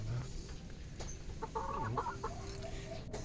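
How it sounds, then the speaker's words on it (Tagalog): Six-month-old domestic chickens clucking nearby over a steady background, with several short clucks and squawks scattered across the clip. "ang aking alagang manok"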